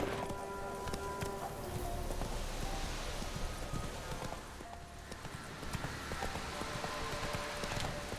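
Horse galloping in The Witcher 3 video game, a steady rapid clip-clop of hooves over rain-like ambience, fairly loud and continuous throughout.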